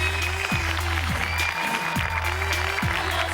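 An audience claps for two contestant teams on a Thai TV ice-cream-eating competition show. The applause is steady and even, under looping game-show music with sliding tones.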